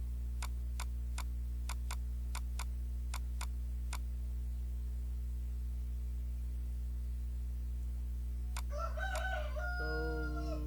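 A rooster crows loudly near the end, after a run of evenly spaced sharp ticks over a steady low hum.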